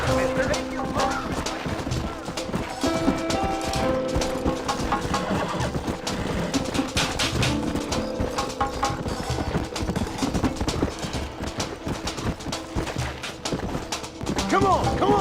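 Horses gallop in the western video game Red Dead Redemption, fast, rhythmic hoofbeats running loud and continuous, with voices and game sounds layered over them.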